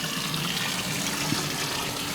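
Hot water runs steadily from a newly installed shower in a bathroom, a continuous, even hiss of spray that holds at a moderate level with no voices.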